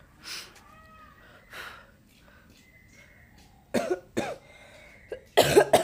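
A few sharp coughs near the end, two close together and then a harsher burst, after quiet moments with faint voice sounds.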